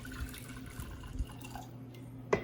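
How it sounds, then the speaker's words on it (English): About two cups of water poured into a pot for Ayurvedic kadha tea, a steady low running and splashing with a brief clink near the end, no voices. "First we pour around 2 cups of water"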